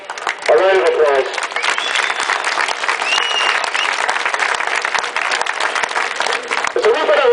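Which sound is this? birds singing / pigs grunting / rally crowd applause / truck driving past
rally crowd applause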